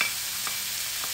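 Ground pork fries in a pan as a sautéed filling for lumpiang shanghai, giving a steady, fairly faint sizzle with a few soft stirring clicks and no talking.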